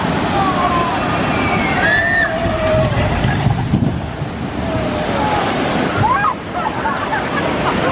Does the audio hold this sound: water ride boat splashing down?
yes